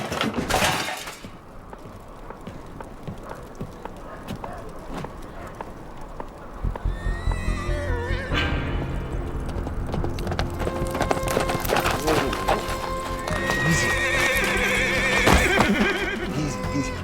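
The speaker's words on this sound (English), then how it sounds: "That's Celine's horse." A horse whinnies loudly and close, with clip-clopping hooves and rustling movement around it.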